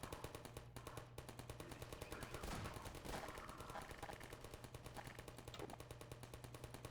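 An automatic turret in Half-Life 2 keeps firing in rapid, evenly spaced bursts, a relentless mechanical chatter running beneath other game noise and a few spoken words.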